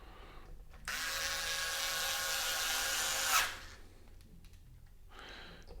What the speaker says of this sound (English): Last thing is we want all the screws in.